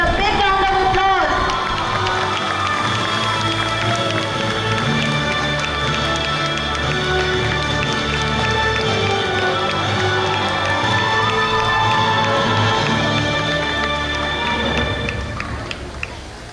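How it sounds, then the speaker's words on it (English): Audience applause at a school annual function, a dense sustained crowd noise with cheering and shouting over steady background music, loud throughout and tailing off at the end. "Let's celebrate her dedication with a big round of applause."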